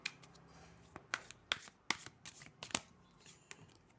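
Tarot cards are handled and shuffled close up, giving a quiet series of irregular sharp riffling snaps and soft slides with brief pauses between them.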